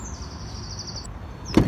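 A van's side-loading sliding door closing with a single sharp thud near the end, preceded by a quiet, steady high whine.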